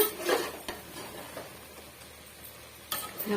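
Chicken coated in chicken masala is stirred in a pan for a chicken gravy, giving soft, quiet scrapes and a couple of light utensil clicks over a faint background hiss.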